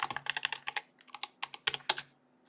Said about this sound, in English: Here, let's type that in right.